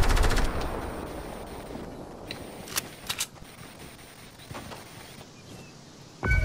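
A burst of rapid Fortnite gunfire opens, then scattered distant shots crack through quieter game ambience before another loud volley at the end.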